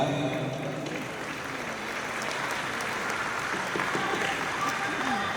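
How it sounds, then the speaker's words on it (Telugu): A large audience gives a standing ovation at a felicitation for Maestro Ilaiyaraaja, with dense, steady applause that roars on without a break for several seconds. "ఈ స్టాండింగ్ ఓవేషన్ కానీ ఈ చప్పట్లు కొట్టడం కానీ అడిగి తీసుకోకూడదు"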